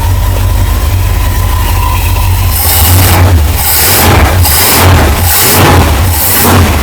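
A 1963 Chrysler Newport with a 361 V8 idles close by, a loud, steady, low rumble through quiet mufflers, with a few swelling pulses of throttle near the end.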